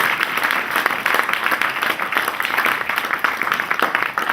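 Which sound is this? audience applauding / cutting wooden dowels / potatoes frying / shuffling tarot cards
audience applauding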